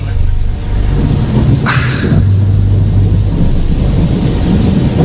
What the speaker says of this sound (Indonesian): Hujan yang kayak gini sih bakal lama nih.